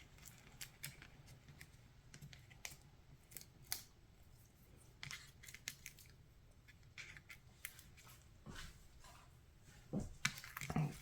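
Adhesive backings peeled off paper-craft flower pieces at a tabletop card-making session, a series of soft, close crinkling rips and paper rustles in uneven bursts, livelier near the end, with no talking.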